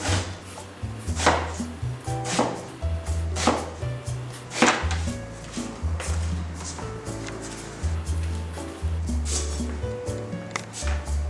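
Knife chopping through eggplant on a cutting board, the eggplant cut in halves and slices for frying, giving repeated sharp cuts and thuds at an uneven rhythm, close and moderately loud.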